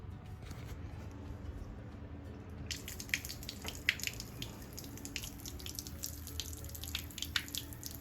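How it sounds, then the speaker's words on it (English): Water drains from the opened low point valves under a camper being winterized, a steady close trickle and patter of drips running on alone throughout, getting brighter and splashier partway in. "the low point valves are draining out"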